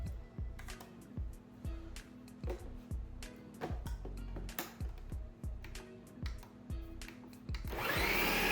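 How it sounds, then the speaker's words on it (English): Blender pulsing through a thick black bean and tofu burger mixture, a steady close motor whir broken by a regular series of sharp bursts and dips roughly every half second, rising to a louder continuous roar at the end. "push the mixture on the sides downward, and blend for another 30 seconds."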